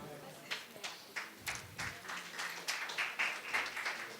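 Scattered applause at a poetry book launch ceremony, thin irregular claps rising and falling under someone talking on a microphone.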